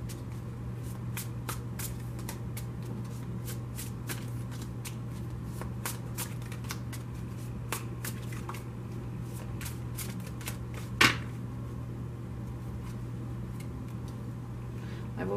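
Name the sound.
shuffling a tarot card deck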